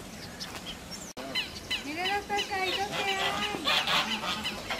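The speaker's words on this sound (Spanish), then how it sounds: "escuchamos sonidos de aves silvestres, de patos y de gansos" Wild ducks and geese calling at a lagoon, a steady stream of honks and quacks overlapping at mid distance, busy and fairly loud throughout with a brief gap near the start.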